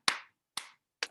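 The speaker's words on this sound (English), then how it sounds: "And then clap." Three sharp, close hand claps ring out alone in a workshop room, evenly spaced about half a second apart, each with a short decay.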